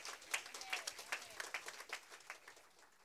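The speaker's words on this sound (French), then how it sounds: "je vous demande d'applaudir avec de chauds applaudissements" A church congregation applauds a pastor, loose clapping with a few sharper claps standing out, moderately distant and steady for a few seconds.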